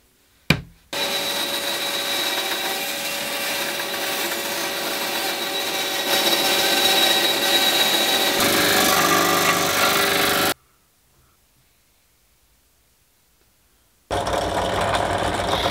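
A power tool cuts a large switch shape out of plywood, a loud, steady whine and rasp running for about ten seconds before stopping, then starting again briefly after a pause.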